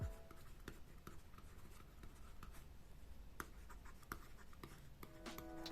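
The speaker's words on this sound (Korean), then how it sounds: "여기에다 와콤 원펜을 사용하여 쓰면 이러한 사각거리는 소리가 들립니다" Wacom One pen writing on a paper-texture screen film, giving a steady close scratchy rasp of nib strokes with short taps and pauses, heard alone throughout.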